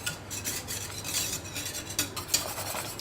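Cornflour and milk being mixed into a kulfi ice cream base, heard as a continuous brisk scraping and swishing of a utensil around a pot, close and moderately loud with occasional sharper clinks.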